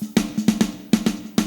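Snare drum layered with its bottom-mic snare wires in a mix, hit in a steady pattern of about seven sharp cracks, each with a bright rattling tail and a low ring underneath.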